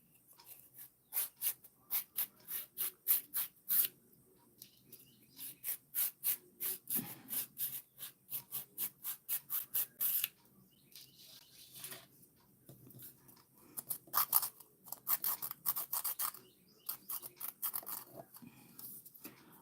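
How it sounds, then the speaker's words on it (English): A nail file rasps under an acrylic nail in fast, even back-and-forth strokes, then in looser, irregular bursts, close and fairly soft. "I'm trying to file the underside here where I've got some lumpy and bumpies"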